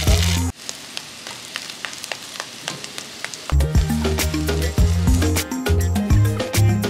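Yakisoba noodles fry in oil in a pan over mild heat, a steady close sizzle with small crackles that grows louder and fuller partway through.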